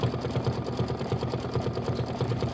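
An embroidery machine stitching a quilt block for a nativity bench pillow gives a close, even rhythmic chatter of rapid needle strokes, steady and unbroken throughout.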